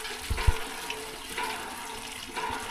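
Water is filled for household use in a Chhattisgarh village, with soft running and splashing sounds, fairly faint and with no talk.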